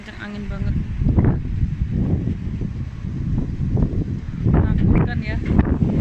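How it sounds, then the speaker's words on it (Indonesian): Strong wind gusting outdoors during a dust storm in Riyadh, a steady loud rushing roar with buffeting on the microphone, while a person talks over it throughout. "Suara kencang angin banget."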